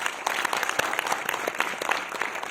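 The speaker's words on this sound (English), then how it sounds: "let's hear a round of applause" Audience applause in a film institute acting-class hall, a dense steady patter of many hands clapping throughout, fairly close and loud with no pauses.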